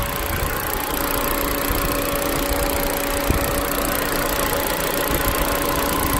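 An Opel Agila car engine idles steadily, a constant low hum with a faint mechanical whine, close by and without speech.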